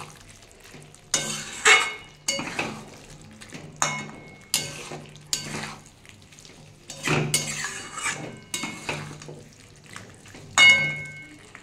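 Fried green jackfruit is stirred into a thick masala in a pan, with intermittent spatula scrapes and knocks against the metal over a soft, low sizzle, in separate close bursts with quiet gaps.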